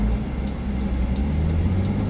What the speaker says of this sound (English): You kind of use the engine braking.